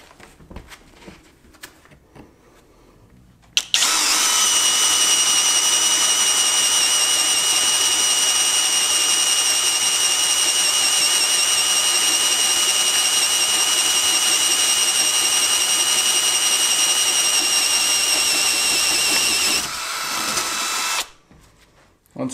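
A Greenworks drill bores with a 3/4 inch spade bit, a loud, steady high whine that holds for about sixteen seconds and then cuts off, with quiet background before and after.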